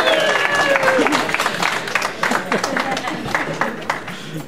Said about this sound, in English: I know a lot of you probably want to get another applause out of the way for this fantastic stash